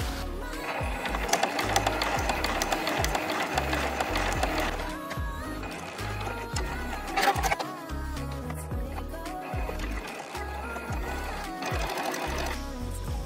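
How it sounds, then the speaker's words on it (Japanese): A sewing machine runs steadily, stitching tucks on a blouse, its needle pulsing rapidly in close, loud bursts with brief pauses between seams. "さて、タックを縫っていきます。"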